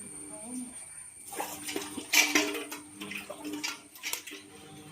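Water splashes and trickles as it is poured off soaking dried fish, starting quietly and swelling into uneven gushes with faint background voices.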